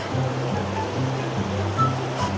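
Cold water rushes steadily at a waterfall in the Yaremche area, a loud continuous broadband roar close by with no pauses.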